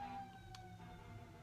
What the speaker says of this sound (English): Oh, siren's going off.